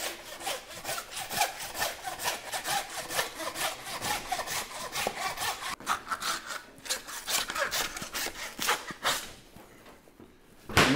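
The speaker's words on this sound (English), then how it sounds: "Then you grab your handsaw, cutting through this ball joint." A handsaw cuts through the ball joint of a beef carcass in quick, steady back-and-forth strokes, each one a gritty rasp, continuing for about ten seconds before slowing and stopping.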